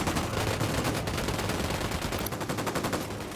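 Rapid sustained gunfire rattles through a Ghost Recon Wildlands firefight, with dense automatic bursts that sound loud, continuous and close for several seconds before thinning slightly.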